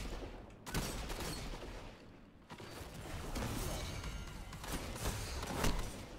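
Gunfire in a video game, a scattered fusillade of shots and thuds over a dense noisy background, moderately loud and fairly continuous.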